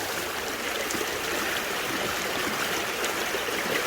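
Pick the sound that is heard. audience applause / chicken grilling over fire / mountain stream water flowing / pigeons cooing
mountain stream water flowing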